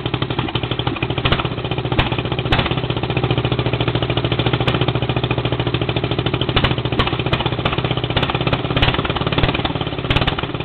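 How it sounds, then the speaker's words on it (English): A loud engine idles roughly after a cold start, a dense continuous clattering rumble with a steady pulsing rhythm and occasional sharper ticks, running alone without talk. "Hopefully once it warms up, it'll be able to idle by itself."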